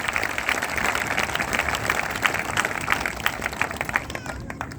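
A church congregation claps in praise at the dedication of a new church building, a dense, steady wash of many hands ringing out close and continuous, thinning slightly near the end.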